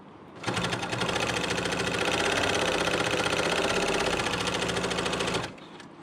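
A Bernina L890 sewing machine stitches binding from woven fabric strips, running at a fast, even pace for about five seconds with a dense rattling hum, close and loud, starting and stopping abruptly.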